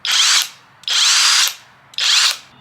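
OLMLMO 1/2-inch drive cordless brushless impact wrench at max power, rated to 800 foot-pounds, fires three short, loud bursts of whirring hammering in quick succession with brief gaps between them.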